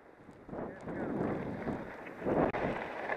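Wind buffets a microphone on a foggy ski slope, roaring in low gusts that swell and fade while a voice speaks.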